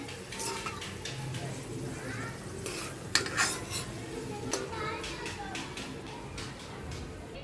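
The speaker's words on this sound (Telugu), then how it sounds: "అలాగే రవ్వ కూడా ఫ్రై చేస్తున్నాను" Semolina (rava) is fried and stirred in a pan while making rava kesari, an Indian sweet, with soft sizzling, a spoon scraping the pan and occasional metallic clinks, quiet and close beneath a speaking voice.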